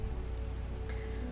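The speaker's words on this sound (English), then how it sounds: "it's raining outside" Steady rain falls in the video game Strange Horticulture, a continuous patter with a low hum beneath, even and unbroken throughout, with no voices.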